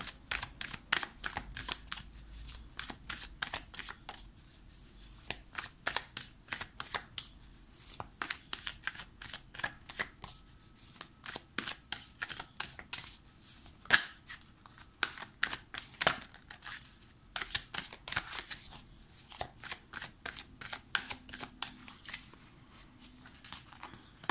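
A witches' tarot card deck being shuffled by hand, rapid crisp riffling flutters in repeated bursts with short pauses between, close and fairly quiet, no talking over it.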